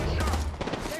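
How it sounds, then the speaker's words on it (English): Rapid gunfire rattles in a shooter video game, a dense burst of overlapping shots in a little over a second, with game voices calling out over it. "They're shooting at me!"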